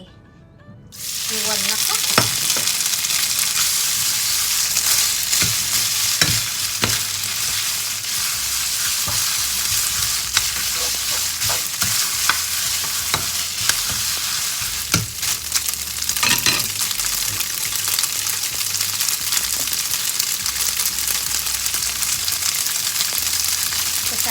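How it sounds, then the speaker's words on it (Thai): Rice noodles for rad na fry in hot oil in a wok, a loud, continuous sizzle with occasional scraping and stirring clatter, close up and without talk. "ตั้งกระทะใส่น้ำมันแล้วนะคะ มันก็ร้อนแล้ว เราก็จะเอา นี่ค่ะเส้นไป"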